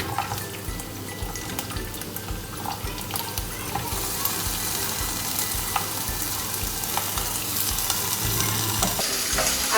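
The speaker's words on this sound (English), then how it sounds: "I'm going to let all of this fry" Ginger, garlic and onions fry in oil with a steady, even sizzle throughout, close and moderately loud, with occasional light stirring clicks.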